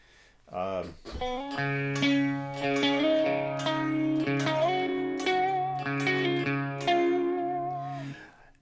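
Electric guitar played through a Marshall-style amp preset, sustained distorted chords and ringing notes with a bright, effects-laden tone, loud and steady for several seconds without talk.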